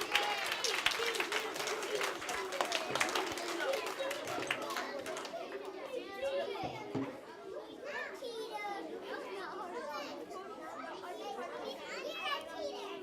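Children at a library science program clap in a quick burst of applause for the first few seconds, fading into lively chatter, shouts and running as kids move to their seats.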